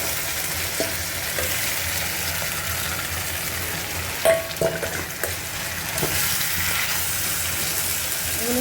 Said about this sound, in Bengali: এগুলো সুন্দর করে ভাজা ভাজা করতে হবে